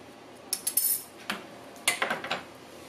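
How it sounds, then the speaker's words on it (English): A metal spoon clinks and rubs against a clean kitchen towel while being dried, giving two short clusters of bright clattering taps, close and fairly quiet, with no talk. "Now we are going to take our clean towel and we are going to dry off our spoon."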